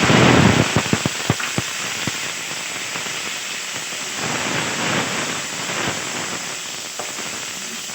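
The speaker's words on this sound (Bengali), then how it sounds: "তেল গরম হয়ে গেছে একটা শুকনো লঙ্কা আর কালো সর্ষে ফোড়ন দেব" Dried chili and black mustard seeds sizzle in hot oil, with a burst of sharp crackling pops at the start that settles into a steady, close frying hiss.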